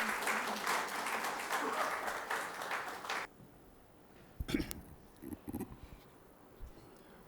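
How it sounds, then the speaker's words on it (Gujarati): An audience at a Gujarati lecture hall gives warm, dense applause that runs for about three seconds before cutting off. A few scattered noises and brief sounds follow in a quiet room. "ખૂબ તાળીઓથી વધાવીશું."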